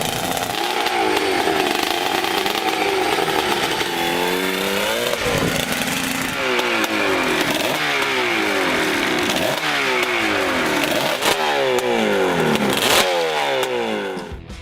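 A loud motorcycle engine revs repeatedly, rising and falling in pitch with harsh, buzzing intensity, sustained throughout with no voices.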